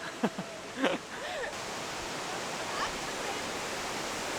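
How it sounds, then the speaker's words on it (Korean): A large waterfall in Da Lat, Vietnam roars as a steady, even rush of falling water heard from nearby, with brief voices near the start. "와, 폭포 봐봐. 와 저게 그 폭포구나."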